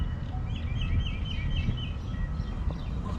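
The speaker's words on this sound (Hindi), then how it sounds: "चिड़िया बोल रही हैं ची ची ची" Small birds chirp in quick repeated bursts outdoors, faint and somewhat distant over a steady low rumble of wind or traffic.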